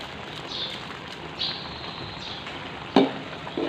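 Instant Indomie noodles stirred in hot oil: a steady, dense sizzle with soft scraping strokes and a couple of sharper utensil knocks near the end.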